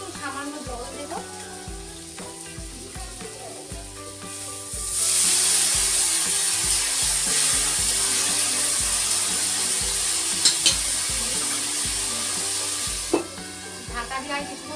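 Small fish and potato curry (chuno macher jhal chochchori) in a pan bursts into a loud, steady sizzle as a little water is added, with softer stirring before it and low background music throughout.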